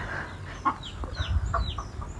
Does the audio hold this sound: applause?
no